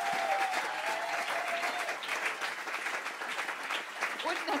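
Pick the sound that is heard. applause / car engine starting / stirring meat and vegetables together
applause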